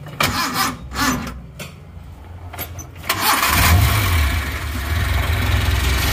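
A starter cranks in short bursts, then the small engine of a Suzuki Carry van, rebuilt with new piston rings, catches and settles into a steady, fairly loud idle.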